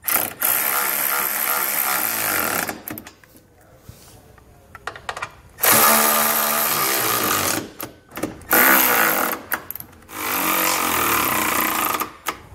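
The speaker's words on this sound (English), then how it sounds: "we can come back with a 5/8 socket and snug it all down" A power tool drives a 5/8 socket to snug down trailer hitch hardware, producing loud, close bursts of rapid rattling impact in several runs of a few seconds, separated by short pauses.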